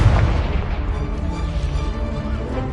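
A Confringo blasting spell detonating in the Hogwarts Legacy video game, a loud, dense, rumbling explosion that fills the moment and stays steady without a break.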